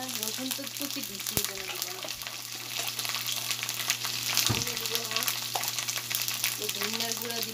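Ginger and garlic paste sizzles steadily in a hot pan, a dense continuous frying hiss up close, broken by a couple of brief stirring clatters, with no talk over it.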